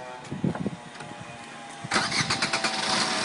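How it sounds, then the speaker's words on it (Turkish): A 2011 Fiat Fiorino 1.3 Multijet diesel cranks briefly with a few uneven turns, then catches and settles into a loud, steady, close running sound. "Arabayı çalıştırabilir miyiz?"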